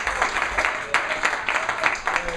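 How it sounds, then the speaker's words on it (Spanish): Congregation at an evangelical church service clapping in praise, with irregular bursts of applause and a few voices mixed in. "Yo daría un gran aplauso al Señor en esta hora."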